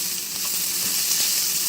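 Diced ham stir-frying in vegetable oil in a pan on a stove at medium-high heat, giving a steady, close hiss and crackle of sizzling.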